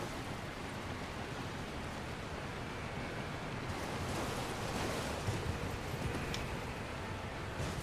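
Cascading waterfall in the video game Elden Ring, a steady broadband rush of falling water that stays constant throughout, with a slightly brighter splashing texture toward the end.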